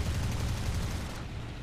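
Machine guns firing from an I-16 type 27 fighter plane in War Thunder arcade battles, a short sustained rattle of rapid fire, loud and close, over a steady engine drone.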